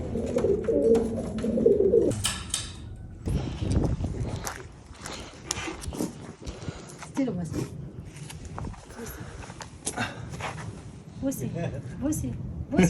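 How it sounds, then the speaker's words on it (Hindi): Pigeons coo in a village farmyard with chickens nearby, low soft calls standing out at the start and recurring amid shuffling, movement noise and people talking. "मुर्गे, कबूतर, इतने कबूतर."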